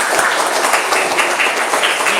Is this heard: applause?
yes